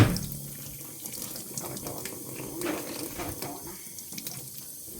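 Running tap water pours steadily over plastic food containers being washed in a sink, a continuous splashing rush with a few clinks of handling, fairly close and with no speech.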